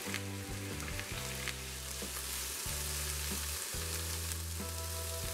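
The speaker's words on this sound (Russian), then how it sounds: "Добавляем болгарский перец, ананасы. Перемешиваем и обжариваем еще 5 минут." Bell pepper and pineapple stir-fried in a pan for sweet-and-sour pork, a steady loud sizzle with repeated scraping stirs, close up and with no voices.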